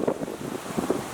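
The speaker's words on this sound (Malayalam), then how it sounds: "ഇന്നിപ്പോൾ അത്യാവശ്യം നല്ല കാറ്റൊക്കെ ഉണ്ട്." Strong wind blowing outdoors, a steady gusty rush with rumbling buffets against the microphone and no voices.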